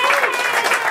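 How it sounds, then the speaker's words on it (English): Crowd at a New York City Council campaign event applauding for Councilman Ari Kagan, a dense steady wash of clapping that fills the whole moment at close range. "Let's give him a round of applause."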